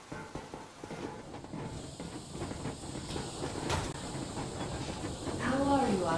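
A steam train in the video game Metro Exodus rumbles and hisses continuously, with faint rhythmic rail clatter building slightly louder toward the end.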